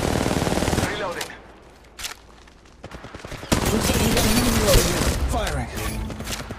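Apex Legends gunfire rattles in loud rapid automatic bursts with booming shots and quieter gaps in between, while a game character's voice speaks over the action.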